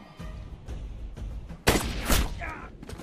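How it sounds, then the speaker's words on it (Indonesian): A single gunshot in a film scene cracks loud and sudden, followed by a second burst and rumbling action noise under a dense soundtrack. "melepas satu tembakan ke arahnya"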